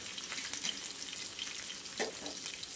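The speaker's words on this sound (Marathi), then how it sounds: "मिरची लसूण मस्त असं परतून घ्यायचं." Chilli and garlic sautéing in oil in a pan for a potato dish, a soft steady sizzle heard close with a faint stir or two.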